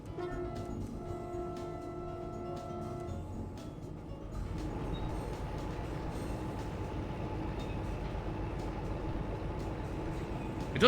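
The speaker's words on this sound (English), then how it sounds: "We have set off on our train." A train in the Derail Valley game gets under way, a steady low rumble and rolling rail noise that swells after a few seconds and carries on evenly, with faint tonal hums early on.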